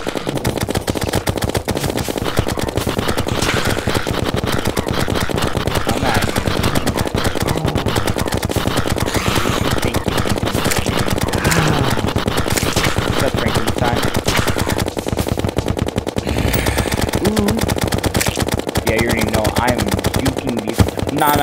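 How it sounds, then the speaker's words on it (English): A minigun fires in a video game as one long, loud, unbroken stream of rapid shots that runs for over twenty seconds with no pause. "Keep shoving a minigun down their throat."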